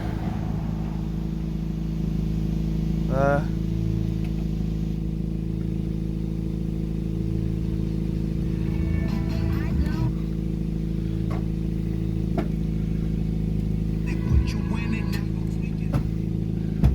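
A car engine, just brought back to life with its indicators previously acting up, idles steadily with a constant low rumble, close and continuous throughout, with brief clanks and a person speaking over it.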